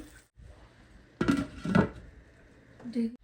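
Meat being mixed in a cooking pot for biryani, with a few scraping clatters of a utensil against the pot, nearby and moderately loud, with short quiet gaps between strokes.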